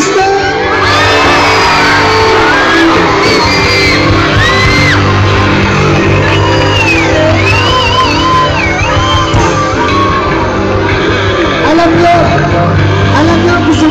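Church congregation screaming, whooping and cheering during praise and worship, a loud sustained crowd roar with many overlapping high shrieks rising and falling across the whole stretch, close and saturated.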